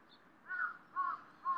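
Crows cawing near a rose garden, three distinct calls spaced evenly like a pair answering each other, moderately loud and clear over a quiet background.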